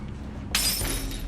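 Glass shatters suddenly in a Spider-Man film scene: a loud, close crash of breaking glass followed by a brief tinkling spray of falling shards.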